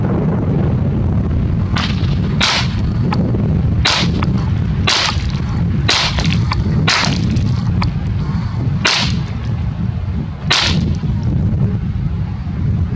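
Guns fired at Halloween pumpkins to carve them, a string of about ten loud, sharp gunshot cracks spaced irregularly over a constant low outdoor rumble, with no talking.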